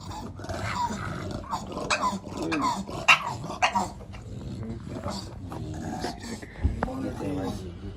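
A micro exotic bully stud dog barks and growls in short bursts while people talk nearby, the dog's sounds rising over steady conversation.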